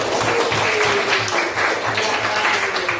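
A classroom group claps hands in a steady, rhythmic burst of applause, fairly close, with voices mixed in underneath.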